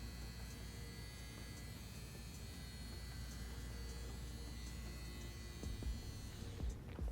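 A CNC S1 tattoo machine runs at 8 volts, giving a steady, even electric buzz and hum that holds unchanged throughout at a moderate level, with no talking.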